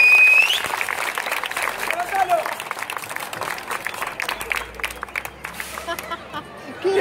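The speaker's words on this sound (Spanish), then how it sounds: "se lo vamos a dar a que le dé un fuerte aplauso" An audience at a children's entertainment show gives applause, loose clapping mixed with crowd chatter and a short whistle-like tone at the start, tapering off toward the end.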